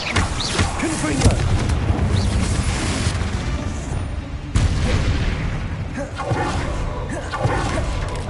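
Confringo spell blasts in Hogwarts Legacy: loud, booming fiery explosions, one at the start and another midway, each followed by rumbling bursts and whooshes filling the whole stretch.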